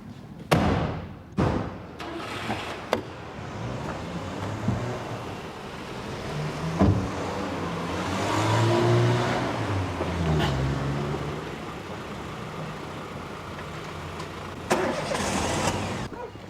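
Car doors shutting with several sharp thuds, then a car engine cranking and starting up and idling steadily close by, followed by more door slams near the end.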